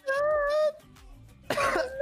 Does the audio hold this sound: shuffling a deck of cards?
no